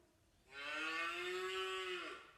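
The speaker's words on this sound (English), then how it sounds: "That is a cow." A single long cow moo, close and full-toned, rises from near silence, holds steadily for about a second and a half, then fades out.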